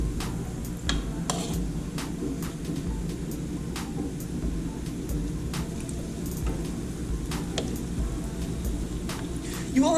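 Spoonfuls of apple fritter batter frying in hot oil, a steady close crackling sizzle with scattered sharp pops running throughout at an even level.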